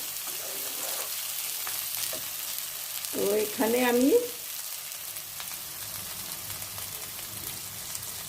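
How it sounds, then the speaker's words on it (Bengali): Fish roe frying in a pan sizzles steadily at a low level, with a short burst of speech partway through and soft stirring scrapes around it. "এখন শুধু ভাজছি"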